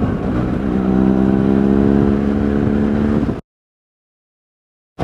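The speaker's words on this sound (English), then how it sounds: "That's an F750 or an F850. Yeah, it's BMW. can tell by the exhaust." A BMW F750 or F850 motorcycle engine and exhaust humming with a steady tonal note at close range, ending abruptly into silence before a brief return.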